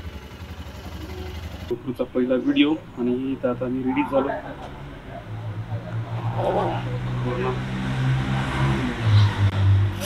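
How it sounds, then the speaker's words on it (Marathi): Motorcycle cold start before a Srinagar to Kargil ride in Ladakh: someone talks near the mic, then a low engine rumble catches midway and settles into a steady idle with slight revs under his voice. "आता बाईक कोल्ड स्टार्ट होईल."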